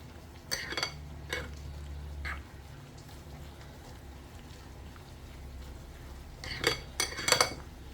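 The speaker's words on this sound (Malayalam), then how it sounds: "സ്പൂൺ വെച്ച് മിക്സ് ചെയ്യാം മുട്ട ബീറ്റ് ചെയ്തിട്ടുണ്ടല്ലോ" A spoon mixes beaten egg and oats in a bowl, giving a few quiet scraping strokes and light clinks against the dish, with a brief cluster of louder clinks near the end.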